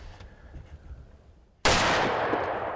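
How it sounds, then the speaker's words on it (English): A rifle shot fired at a buck during a Michigan deer hunt: one sudden, loud blast breaks a quiet stretch of outdoor background, then rings out in a sustained, noisy tail. "I had to shoot him, Jimmy."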